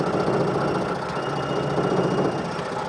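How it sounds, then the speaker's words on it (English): Running 2020 Yamaha 25hp four-stroke outboard motor with its unlevel fuel tank shaking and rattling, a loud continuous engine drone with buzzy rattle throughout. "The rattling is the tank."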